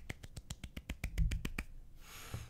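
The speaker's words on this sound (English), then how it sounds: "Old golf clap for you." A slow golf clap: about a dozen soft, evenly spaced hand claps, close and quiet, followed by a brief muffled rustle.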